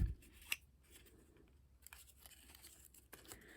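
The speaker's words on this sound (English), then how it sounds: "finish wrapping that tape around" Tape is pulled and wrapped around a handmade bead storage box, with a sharp snip near the start, then scattered crinkly tearing and rustling bursts at close range, no voices.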